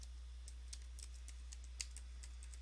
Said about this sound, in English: you will type net